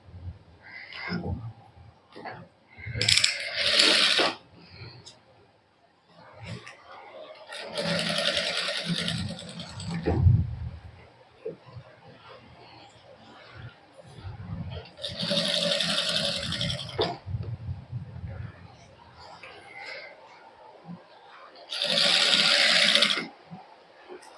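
A sewing machine runs a basting stitch along a dress neckline in several separate whirring bursts, with someone talking between and around the runs.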